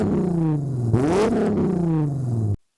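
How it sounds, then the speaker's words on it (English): A Volkswagen VR6 engine revs up and falls back, its rising and dropping pitch loud and close, then cuts off abruptly at the end. "people compare the sound of a VR6 engine to the sound of a"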